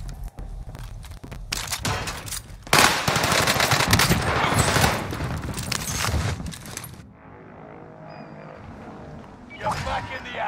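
Burst-fire gunshots in the video game Warzone: rapid, loud clusters of shots crackle close by for several seconds, then the firing stops and quieter game sounds follow, with a voice talking over parts of it.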